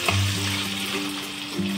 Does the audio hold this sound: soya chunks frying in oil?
yes